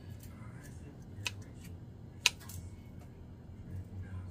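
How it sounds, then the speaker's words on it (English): Scissors snip leaves off dried stinging nettle stems, with two sharp crisp clicks standing out against faint rustling and a low background hum. "I am going to spend some time to cut the leaves off"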